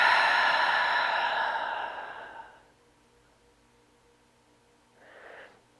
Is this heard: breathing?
yes